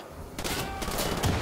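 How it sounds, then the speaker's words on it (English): Enemy gunfire in Wolfenstein: The New Order, a rapid burst of overlapping shots erupting after a brief quiet moment, loud and close for about a second. "They're trying to shoot me."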